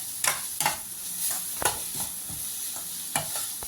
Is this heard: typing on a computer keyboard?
no